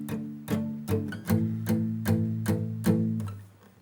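Electric guitar playing power chords with muted downstrokes in a strumming pattern, a series of about eight short, chunky palm-muted hits in steady rhythm, close and unaccompanied.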